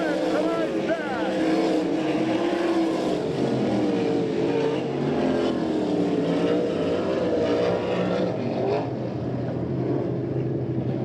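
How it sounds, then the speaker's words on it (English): Sprint cars in an All Star Circuit of Champions dash at Abbottstown, Pennsylvania, roar through the final turn as a loud, continuous engine drone with a slowly shifting pitch. It sits under what sounds like an announcer's voice. "DeWeese tries the slider, but Greg Hodnett will win tonight's dash"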